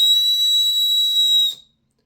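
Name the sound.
blowing a handmade whistle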